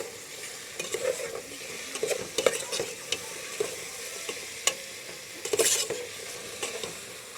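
Food sizzles in a pan over full flame while a utensil stirs and scrapes it, giving a constant close frying hiss broken by sharp knocks and clatters against the pan.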